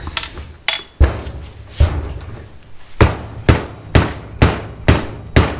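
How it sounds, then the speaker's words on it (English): A mallet strikes the engine cases of a 1965 Honda Dream CA95 to split them: about ten sharp, close, loud knocks, irregular at first and then in a steadier rhythm, each with a brief ring-off. "Get the mallet out, see if these cases will split."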